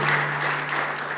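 An audience at a book auction breaks into steady, sustained applause, a dense wash of clapping that holds evenly throughout without pauses or voices standing out.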